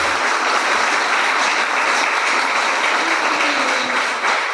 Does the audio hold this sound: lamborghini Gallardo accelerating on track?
no